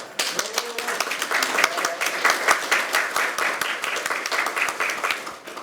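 Loud, sustained applause from a crowd at a political party election committee launch ceremony, steady dense clapping that fills the room and continues without pause.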